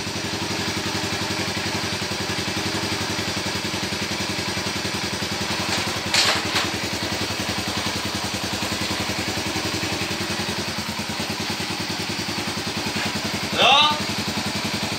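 A Yamaha SR 125 single-cylinder motorcycle engine idles at close range in a steady, even chug throughout, with a brief clatter midway and a short metallic squeal near the end.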